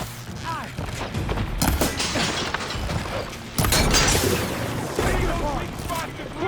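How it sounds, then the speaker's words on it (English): Rapid bursts of gunfire and heavy impacts crackle through a chaotic battle in the Horizon Forbidden West video game, with shouting voices and mechanical clanks layered over the shots. "Firing now!"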